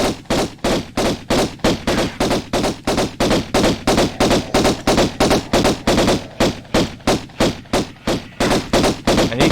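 A steady stream of evenly spaced gunshots in Tomb Raider's Natla's Mines, fired at an enemy: roughly thirty sharp, loud reports over nine seconds with no talking.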